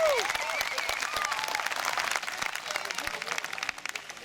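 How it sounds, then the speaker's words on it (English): Audience applause at an open-air cinema screening of Return of the Jedi in a park, steady crowd clapping and some cheering, with a voice faintly present underneath. "give it up, round of applause"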